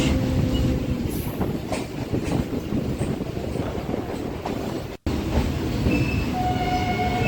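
A train rolls across the Tangra rail bridge on the Kolkata Circular Rail, its wheels clattering and screeching continuously and loudly up close, with no talk, aside from a momentary dropout near the end.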